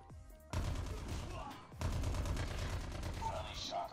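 Light machine gun fire in a first-person shooter battle royale, long dense automatic bursts with a brief pause between them, loud and close, with a voice talking over the shooting.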